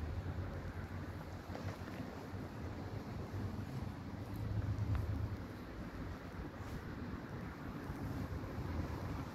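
Steady wind buffets the microphone outdoors in Ibiza, a loud, continuous rumble with broad rushing noise that swells slightly midway.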